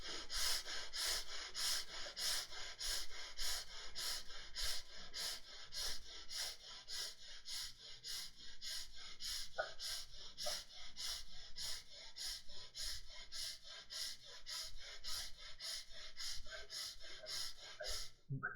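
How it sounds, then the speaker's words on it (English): Someone does rapid chest breathing through the left nostril, a fast, even run of sharp nasal sniffs and exhales repeating steadily for about eighteen seconds. The sound is close and quiet, with no talking. "start breathing 25 times, just chest breathing quick and fast through your left nostril"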